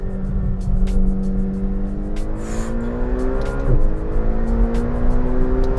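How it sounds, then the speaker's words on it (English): A powerful McLaren sports car's twin-turbo V8 engine drones and rises steadily as it accelerates, with a deep rumble and crackles, close and loud, with no talking. "Listen to the sound of that twin-turbo V8."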